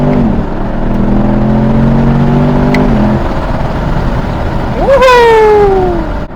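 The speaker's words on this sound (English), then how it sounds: "If I floor the accelerator, my car is about like this." A 2021 Chevrolet Camaro LT1 accelerates at full throttle, its engine note rising steadily, dropping at a shift, then climbing sharply again, heard loud from inside the car with a voice over it.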